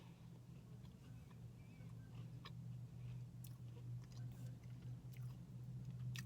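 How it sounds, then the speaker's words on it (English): Bites and chews of a pecan cookie, soft and close, with small irregular crunchy clicks over a steady low hum and no talking. "one more bite, and let's see if we can find a pecan in this thing"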